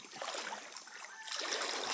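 Wading through deep water at high tide on a slippery path: a steady, close sloshing and swishing of water around moving legs, continuous throughout with no pauses.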